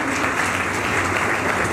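An audience at an annual school award function claps steadily and loudly throughout, a dense, even patter of many hands.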